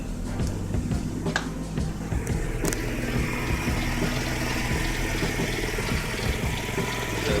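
A Mercedes-Benz W210 engine idles steadily up close, a continuous low mechanical hum with faint knocks and rattles, suspected of a bad alternator or bad ground.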